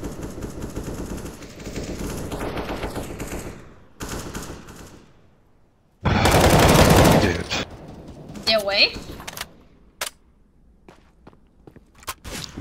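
Close, loud bursts of automatic rifle fire from a Counter-Strike pre-fire, a dense volley cutting through game sounds, then scattered single shots and footstep-like clicks, with voices talking over the action.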